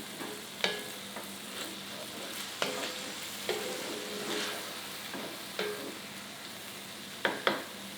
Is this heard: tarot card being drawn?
no